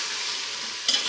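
Turnips and spinach cook slowly in a pan over a very low flame, giving a steady, soft sizzle with a brief stirring scrape near the end and no voices.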